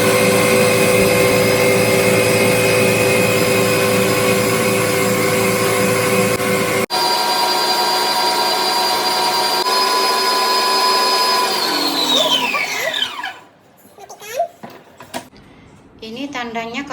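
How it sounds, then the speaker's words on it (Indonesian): An electric mixer whirs loudly and steadily while beating sponge cake batter, its pitch dropping as the motor winds down and stops, followed by a few light clinks. "Atau ikut kecepatan mixer masing-masing ya."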